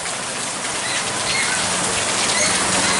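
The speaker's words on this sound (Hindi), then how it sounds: "रविवार की शाम को शहर सहित आसपास के क्षेत्रों में अचानक हुई बारिश से मौसम में ठंडक घुल गई" Sudden evening rain falls steadily on city streets, a continuous dense hiss of drops that stays loud and even throughout, with no voices.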